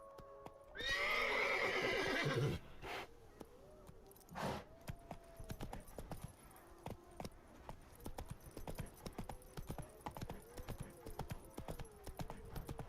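Roach, Geralt's horse in The Witcher 3, whinnies loudly near the start, then hooves clip-clop in a steady galloping rhythm, mid-distance, under game ambience and scattered sounds.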